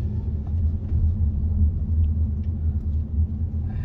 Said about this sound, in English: hit the gas and pick up speed